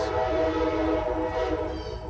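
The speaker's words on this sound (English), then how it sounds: "Oh, can you hear the train? There's an Amtrak train station not too far away." A train passes near an Amtrak station, a loud sustained horn-like tone over rolling rail rumble that holds steady before easing slightly at the end.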